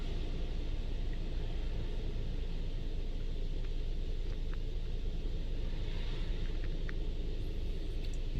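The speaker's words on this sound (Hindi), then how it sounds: "ये अभी गाड़ी के ऊपर पहले साबुन मारा है मशीन ने, अब इसके ऊपर पानी बज रहा है।" Water from a touch-free laser car wash machine sprays over a car in a steady, broadband hiss and rumble that runs unbroken throughout, with no voices.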